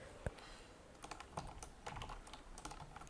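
Quick, uneven keystrokes on a computer keyboard tap out a search shortcut and text, close and fairly quiet, with no voices.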